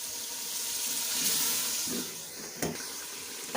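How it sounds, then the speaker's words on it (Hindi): Water sprinkled into frying masala for aloo gobi sizzles and hisses in a steady broadband spatter, with a few sharper bursts near the end, close and moderately loud, with no talking. "साथ मसाला भूनते हुए पानी का छिड़काव लाजमी करें ताकि मसाला हमारा जलने ना पाए"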